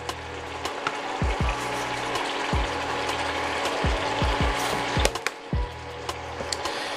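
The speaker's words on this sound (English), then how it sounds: "So I have a new Himalayan salt grinder. I'm gonna add some salt to that." A new Himalayan salt grinder grinding salt while cooking a keto bacon cheeseburger cauliflower casserole: close, repeated ratcheting crunches in uneven twists, loud and alone.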